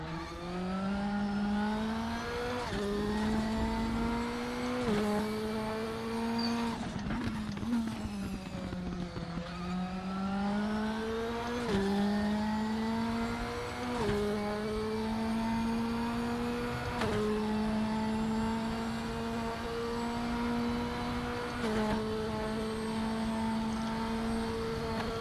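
A Radical race car on the Daytona road course in RaceRoom drones loudly and close, its engine pitch rising through repeated gear changes over a long run, with one deeper dip and recovery midway, and no talking.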